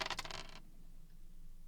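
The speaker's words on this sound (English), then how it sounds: "Did we actually find a dice roll sound?" A dice roll sound effect, a brief rapid clatter of small hard bouncing clicks for about half a second, then quiet.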